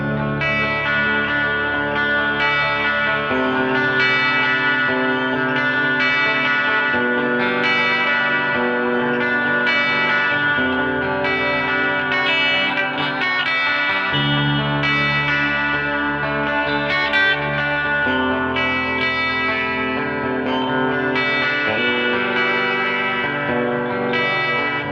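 A Hamer Standard XT electric guitar with Planet Tone Full Throttle pickups plays a sustained chordal passage on the bridge pickup through a Deluxe Reverb-style amp model, clean with compression, delay and reverb, steady and upfront with no talking.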